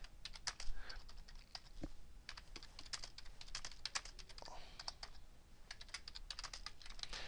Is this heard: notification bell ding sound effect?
no